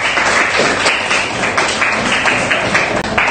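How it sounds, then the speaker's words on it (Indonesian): A class of seventh-grade students clapping for a student group in a classroom, loud, close, continuous clapping with a few sharper individual claps standing out, filling the whole stretch. "Terima kasih tepuk tangan untuk kelompok Ashraf"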